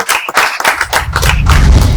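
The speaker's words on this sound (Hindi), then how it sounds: "तो जोरदार तालियां बजा दीजिए।" Audience applause at an inter-office quiz on Constitution Day, a loud close burst of hand clapping from a group that swells and continues steadily.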